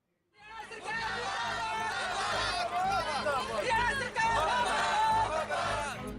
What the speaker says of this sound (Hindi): सरकार मुर्दाबाद के एक सुर में नारे लगाते ये लोग दरअसल कंप्यूटर टीचर्स हैं